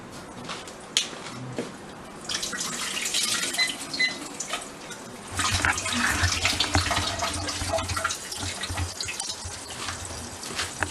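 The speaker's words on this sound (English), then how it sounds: "we're going to strain off our saltfish." Water drains off saltfish poured into a strainer in a home kitchen. A steady, splashy rush of liquid runs throughout, growing fuller and heavier about halfway, close and continuous with no voices.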